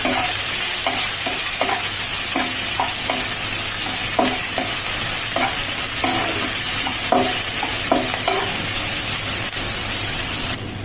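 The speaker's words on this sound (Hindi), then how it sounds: "प्याज है बारीक कटा हुआ, डाल रहे हैं इसमें।" Finely chopped onion fries loudly in a pan under a steady, dense sizzle, with repeated scraping stirs rhythmically breaking through it, close and continuous throughout.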